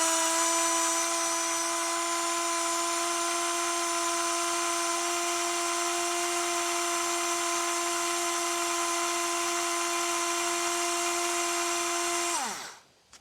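A Parkside PASS 4 A1 cordless screwdriver runs steadily at a high, constant whine for about twelve seconds with no bit load, then winds down quickly as the trigger is released.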